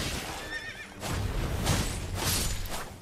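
A horse whinnies in Elden Ring with a wavering high neigh, followed by snorting and hoof clops over a busy background.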